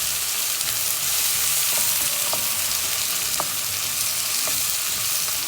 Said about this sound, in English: And you're gonna fry the onions nice and brown.